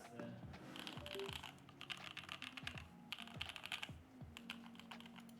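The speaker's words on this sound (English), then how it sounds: "as I'm typing, I can tell the keyboard's heavy" Fast bursts of typing on a heavy mechanical keyboard, close clacking keystrokes in quick runs separated by brief pauses, with a faint voice underneath.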